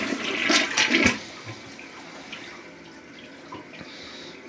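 A household toilet with a faulty flush valve flushing close by: a loud rushing burst of water for about a second, then a quieter draining and refilling hiss.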